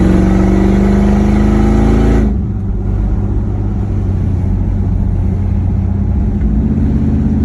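An LS-swapped Chevrolet pickup truck drives on the road, its engine a loud, steady close drone that drops in pitch after a couple of seconds and then holds a rumbling cruise with no talking.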